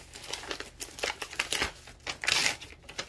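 A small plastic baggie from an Etsy craft shop order crinkles and rustles as it is handled and opened, a close, busy run of crackling with no talking.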